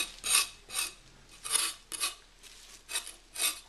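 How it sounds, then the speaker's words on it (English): A knife scrapes the rind off a large hairy melon in about eight quick, rhythmic rasping strokes, each close and crisp, with short pauses between them. "you could use a knife like that and just scrape off the rind like that"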